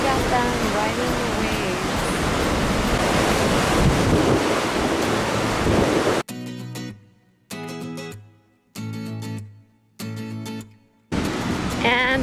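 Pacific surf at Pacifica State Beach roars as a loud, continuous wash with heavy wind buffeting the microphone for several seconds, then the sound breaks into short choppy bursts separated by silences.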